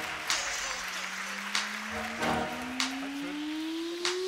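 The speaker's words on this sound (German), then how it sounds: "Begrüßen Sie bitte Harald Wehlenbrock." Audience applause welcomes a speaker onto a stage at a talk, soft and distant, steady clapping with scattered louder claps, under a faint rising hum.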